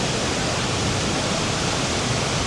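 Fast-flowing water rushes at a waterfall on the China-Vietnam border in Chongzuo, Guangxi, as a loud, dense, unbroken roar close by with no voices.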